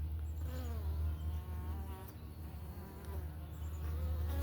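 Italian honey bees hum around their hive during a morning check, a steady, continuous buzz that stays close and fairly loud throughout, with individual bees droning past over the dense hive hum.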